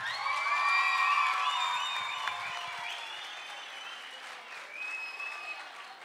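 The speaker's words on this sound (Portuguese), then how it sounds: "Uma salva de palmas para a minha mulher, Cláudia Silva." Audience applause at a live music concert, a thick wash of clapping mixed with cheers and whoops from the crowd, loudest at first and then easing off while it carries on.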